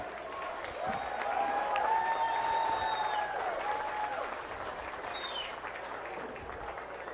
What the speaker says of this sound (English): How about a round of applause again for them?